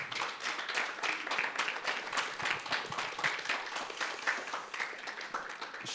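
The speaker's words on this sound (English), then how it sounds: "I want all of you to applaud for her" An audience at a talk on democracy and legal activism applauds a young woman, a dense, steady patter of many hands clapping that holds evenly throughout, soft and somewhat distant.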